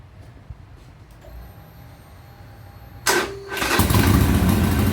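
A 2009 Harley Davidson 48 1200 XL Sportster is started in a quiet garage, with a short starter whir followed by the V-twin catching and settling into a loud, close, lumpy idle.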